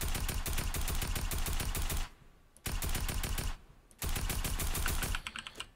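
Gunfire in the video game Fortnite: rapid automatic bursts of shots in three sharp clusters separated by short pauses, loud and close, with no talk over them.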